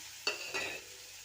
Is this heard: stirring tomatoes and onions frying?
yes